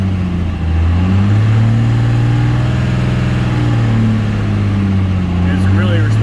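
Cummins diesel engine fitted with a 188/220 camshaft during flat-tappet cam break-in, running at a steady fast idle with a loud, deep, continuous exhaust drone and slight fluctuations, close by.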